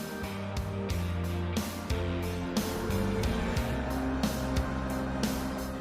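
A Rolls-Royce Dawn, a 2.6-ton rear-wheel-drive convertible, is driven hard. The engine note rises in a steady hum, and brief breaks between pulls suggest gear shifts, audible at moderate level.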